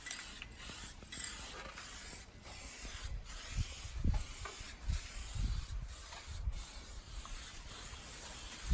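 Steady hiss of a paint spray gun continuously spraying a car top coat, with faint knocks and shuffling underneath; no talking.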